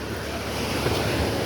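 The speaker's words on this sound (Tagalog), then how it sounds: "Lakas ng alon guys" Strong waves crash steadily on a beach at sunset, a dense, loud roar of surf mixed with wind buffeting the microphone, with no voices.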